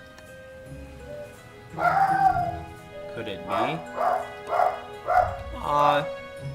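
A dog in a horror video game gives a run of whimpering, yipping barks in rhythmic bursts, fairly close, while a player speaks over the game sound.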